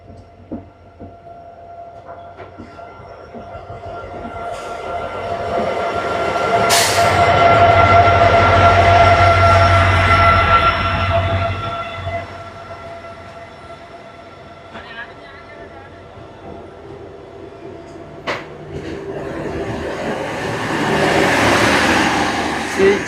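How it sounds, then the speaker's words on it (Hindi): The Kolkata Sairang Express, a 13125 passenger train, pulls in at a station platform with a rising rumble and clatter of wagons, a long horn, and rolling noise that fades, then swells again near the end. "हमारी ट्रेन का जो अराइवल है वो हो रहा है प्लेटफॉर्म नंबर 1 पर"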